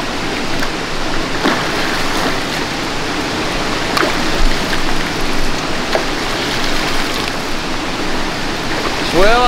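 Creek water flows in a steady, close, broadband rush, with small splashes and faint knocks scattered through it.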